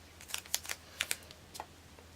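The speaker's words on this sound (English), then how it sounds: "my Tim Holtz scissors" Tim Holtz scissors snip through double-sided tape at a craft table, a series of close, quiet, sharp clicks and snips in uneven bursts with no talking.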